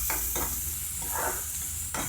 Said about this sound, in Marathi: बारीक चिरलेला लसूण टाकायचा आणि याला चांगलं परतून घ्यायचं।